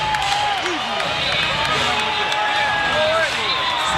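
A large arena crowd murmurs and stirs at a boxing match featuring Floyd Mayweather Jr., a continuous dense roar with scattered claps under commentators' talk.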